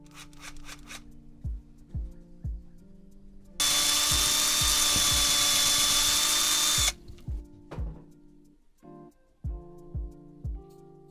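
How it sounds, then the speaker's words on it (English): A power drill fitted with a sanding mesh whirs loudly for about three seconds while cleaning the threads of a Honda brake caliper being rebuilt, with scattered knocks and handling clatter before and after. "Get this sanding mesh thing, put it in your drill,"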